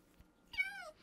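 A single Minecraft cat meow, a clear rising-then-falling call of about half a second, close and alone against quiet background.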